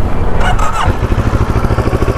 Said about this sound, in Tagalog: Ayan yung idle nya, guys, kapag naka hintulang.